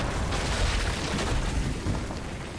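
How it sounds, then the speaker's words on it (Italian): Rumbling explosions from the cover-based shooter video game Gears 5, a dense continuous roar of booms and bursts with no pauses, loud and filling the whole clip. "le esplosioni che sono fatte molto bene"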